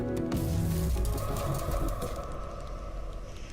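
A cartoonish pyromaniac bird in a video game trailer coos and chirps over a busy musical backing, loud at first and then settling into a softer, steady tail.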